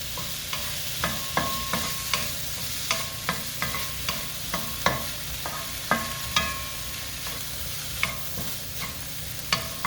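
Diced pork fries in a pot for green chile stew, its steady sizzle broken by frequent close scrapes and knocks of a spoon stirring at an uneven rhythm.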